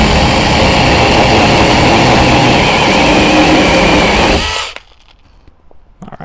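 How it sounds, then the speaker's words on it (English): A cordless 6-inch IMOUMLIVE mini chainsaw cuts through hardwood with a loud, steady buzzing whine for several seconds, then cuts out abruptly and leaves quiet handling noises. "this thing is just going through it like it's nothing"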